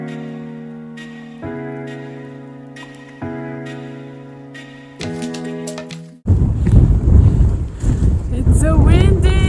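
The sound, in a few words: strong wind blowing on a trail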